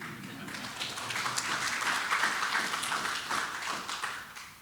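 A crowd applauds steadily, many hands clapping together in a dense, sustained patter that swells slightly and tapers off at the end.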